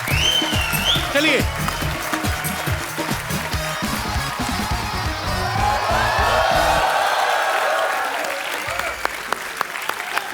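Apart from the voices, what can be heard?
studio audience applause and cheering on TV show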